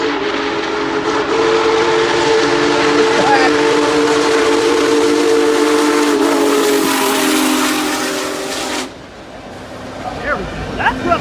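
A train sounds a long, loud steam-style whistle as it approaches, the sustained tones holding for about nine seconds before cutting off, leaving rumbling rail noise and faint background sounds.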